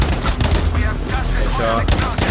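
Loud, dense gunfire from a shooter video game, with continuous shots packed into a brief burst while a player talks over the noise.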